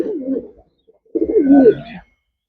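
A Kapus racer pigeon coos up close in two distinct bursts, a short warbling call, a brief pause, then a longer, louder rolling coo, with no talking.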